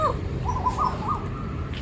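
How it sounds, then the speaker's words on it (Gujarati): A bird calls faintly from a distance in a short burst of repeated rising notes, heard over a steady low background rumble. "કોયલું એટલી બધી આવી છે અને બહુ જ બોલે, સામે એવી બોલે, મસ્ત બોલે"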